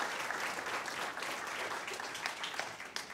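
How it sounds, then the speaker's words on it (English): A church congregation applauds after a song at a Good Friday service, a soft but continuous patter of many hands clapping throughout, fairly distant and even. "let's give another round of applause to Tim and Jewel."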